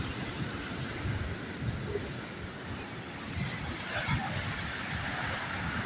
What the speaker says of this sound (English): The waves keep coming in and in.